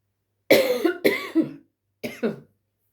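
A close, loud cough in two bursts, then a brief pause and a shorter double cough, with silence around them.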